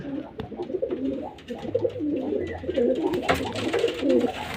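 Pigeons coo in soft, repeated rolling calls at close range during a quiet feeding time, with some birds perched overhead; faint background noise sits beneath the cooing throughout.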